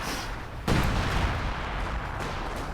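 British artillery fire in a strategy video game: a single sudden booming shot lands partway through, then a dull rumbling tail over faint background battle noise.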